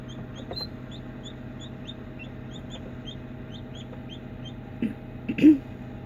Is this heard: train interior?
no